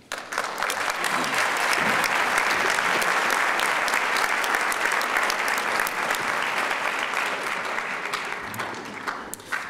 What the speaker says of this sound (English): let's give them another round of applause for being here